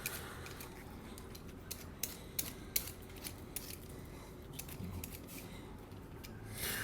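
A knife dices breadfruit into small cubes in a home kitchen in Guadeloupe, giving quiet, irregular crisp taps and clicks against the board over a low room hush.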